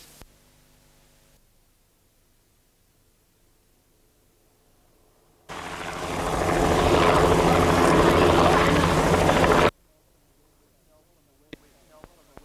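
A loud rescue helicopter roar with rotor chop suddenly rises for several seconds, then cuts off abruptly, bracketed by quieter stretches.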